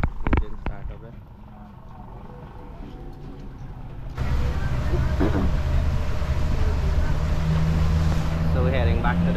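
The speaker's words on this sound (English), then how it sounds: "Engine start up there." A dolphin-watching tour boat's engine starts partway through, jumping from quiet outdoor ambience and water noise into a steady, loud low rumble that continues to the end.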